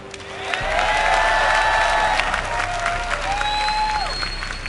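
A crowd at the MLG Championships in Providence, a StarCraft esports event, cheers and applauds loudly and steadily. The noise swells and then holds, and a few whistles cut through the roar.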